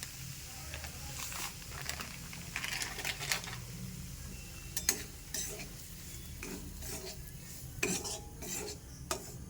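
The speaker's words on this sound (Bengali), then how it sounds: "এবার সুজিটা একটু ভেজে নিই আমি" Semolina stirred and fried in a pan, repeated scraping strokes of a utensil against the metal with faint sizzling underneath, fairly quiet and close.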